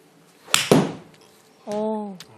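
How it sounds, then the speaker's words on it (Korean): A golf iron strikes the ball crisply, followed at once by a duller thump into turf as a divot is taken, then a short spoken voice. "공을 때리고 땅을 때린다고 하죠."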